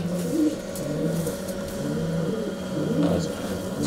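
A racing pigeon gives soft, repeated rolling coos close by, with faint background noise.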